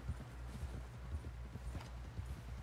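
A horse carries a rider in Red Dead Redemption 2, its hooves clip-clopping in a steady, quiet rhythm along the ground with no other sounds.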